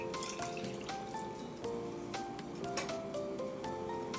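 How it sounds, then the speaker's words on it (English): A cup of water poured into a pot of tomato soup made with milk, a soft trickling and dripping heard close up and quietly over faint kitchen noise. "I'm going to add 1 cup of water."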